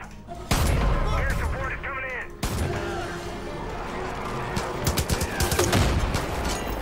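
Bursts of gunfire from the game Far Cry 5 hit a car, with rapid volleys and sharp shots running throughout, loud and close, with voices talking over the shooting.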